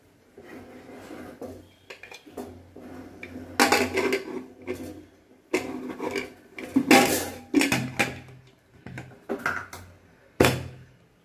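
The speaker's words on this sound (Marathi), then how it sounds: "चला ते आपण झाकण लावून घेऊ" Metal clanks and scrapes come in irregular bursts as a heavy pressure cooker lid is fitted and pressed shut, close up, with no talking.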